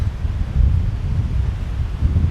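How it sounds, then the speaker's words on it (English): Strong wind buffets the microphone on a natural barrier-island beach at Caladesi Island, Florida, a steady low roaring rumble with gusty swells throughout and no voices. "it is so windy out here today"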